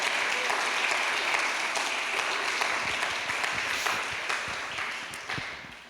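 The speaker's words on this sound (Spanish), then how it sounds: "Dale un aplauso al Rey." A church congregation claps together in sustained, fairly even applause that fades gradually toward the end.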